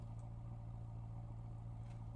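A steady, low car engine idle in Assetto Corsa hums on without change, faint and even throughout.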